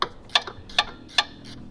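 A wrench works the battery terminal lug connector on a Tesla Model X 12V battery, giving four sharp, evenly spaced metallic ticks close by, with no talking.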